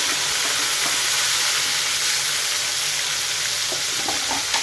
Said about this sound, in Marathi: लसूण लाल व्हायला लागलाय, आपण ह्याच्यामध्ये आता टोमॅटो घालूया।